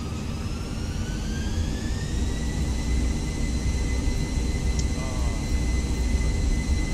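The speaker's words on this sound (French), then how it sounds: "C'est parti, décollage." An Airbus A320 (Fenix) takes off in a flight simulator: a loud, steady jet engine roar with high whining tones that climb in pitch as the engines spool up.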